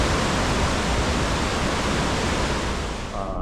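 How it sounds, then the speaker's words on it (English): Engine and propeller-pod rumble aboard the Wonder of the Seas cruise ship, a dense, loud, steady roar like a waterfall that fills the whole clip and eases slightly near the end. "You feel the rumble of the engine to a certain degree, or propellers, I guess is what it is."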